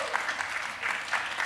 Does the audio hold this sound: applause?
yes